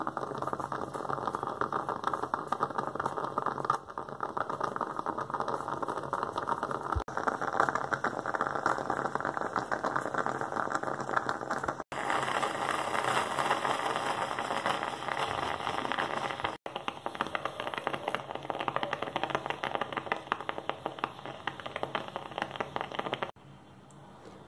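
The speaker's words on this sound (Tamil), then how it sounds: "இப்ப டிகாஷன் ரெடி ஆயிடுச்சு கொதிச்சு மேல வர ஆரம்பிச்சிருச்சு பாருங்க" Coffee decoction boiling up through a stovetop espresso maker, a continuous close sputtering, hissing gurgle that holds steady throughout with a few abrupt shifts in tone, no speech over it.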